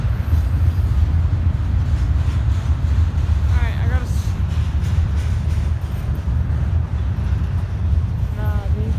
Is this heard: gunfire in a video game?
no